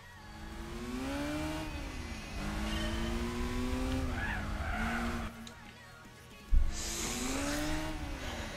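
A race car in Gran Turismo 4 wails through rising and falling engine revs while its tires squeal and skid as it understeers through a corner, with a sharp thud near the end and the engine climbing again.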